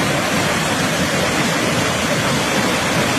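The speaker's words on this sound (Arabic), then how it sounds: "صوت الميه وصوت الشلال يسعدك بجد" Loud, continuous rushing roar of water pouring over the historic Zefta barrages on the Nile, a dense, steady waterfall wash with no voices.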